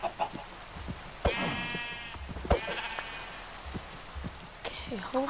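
Sheep bleat several times in short wavering calls, with game background noise and brief other animal sounds scattered around them.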